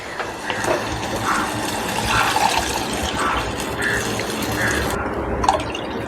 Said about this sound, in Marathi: तर बघा जितकं पाणी पाहिजे ना तितकं आपल्याला पाणी टाकून घ्यायचं आहे